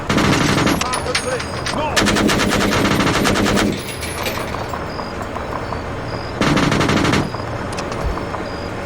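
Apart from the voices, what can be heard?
machine gun fire in video game Arma 3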